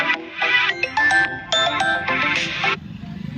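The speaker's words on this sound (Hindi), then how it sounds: "फोन भी बज रहे हैं बीच में।" A phone rings repeatedly with bursts of electronic ringtone tones, fairly loud and close, while rainstorm damage coverage goes on; no speech over it.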